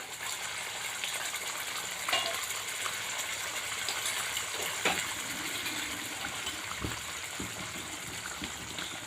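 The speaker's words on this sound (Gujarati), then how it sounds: "એવી તો સરસ ઉકળી રહી છે" Paneer korma gravy boils and bubbles in a pan, a steady close sizzle and bubbling with occasional louder pops and stirs, and no talking.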